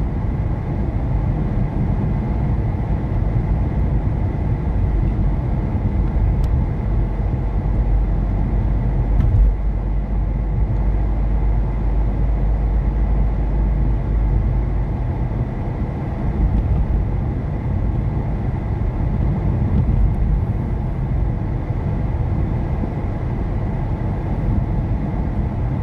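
Cars driving in a convoy at about 100 km/h on a Finnish road near Larsi church, heard from inside a moving vehicle as a steady low road and engine rumble with tire noise, no speech.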